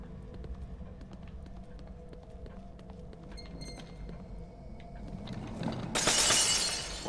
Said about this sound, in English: That was things shattering.